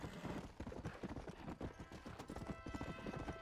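Horse hooves gallop in Red Dead Redemption, a fast, rhythmic drumming of clip-clops that stays close and steady the whole way through, heard quietly.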